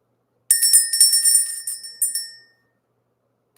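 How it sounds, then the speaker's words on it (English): A small bell rung repeatedly in a quick run of bright metallic strikes for about two seconds, fairly close and clear, then fading to silence with one last faint tap near the end. "let's go ahead and ring the bell."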